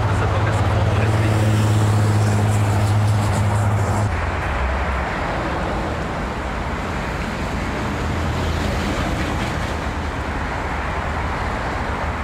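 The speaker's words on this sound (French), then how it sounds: "2 trains qui se croisent en avant et il y a le tramway, le train à voiture élevée aussi qui passe." Two trains cross near Vancouver while an elevated train passes, producing a loud, continuous rumble and roar with a low droning tone that drops off partway through, dense urban noise throughout.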